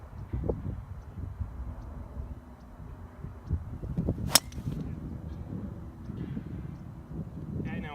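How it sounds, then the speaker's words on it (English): Golf driver striking a ball off the tee on a course, one sharp crack standing out from quiet outdoor background with faint wind. "I'm going to hit the driver. So let's give these two shots a go"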